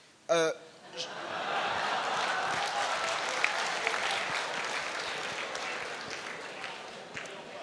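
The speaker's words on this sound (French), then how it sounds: "les applaudissements me prennent beaucoup de temps" Sustained applause from a conference audience at a French economic forum, steady dense clapping throughout after a brief burst of voice at the start.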